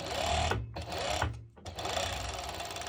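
A sewing machine runs in short stitching bursts with brief stops as it top stitches a seam on a halter neck top, close and steady.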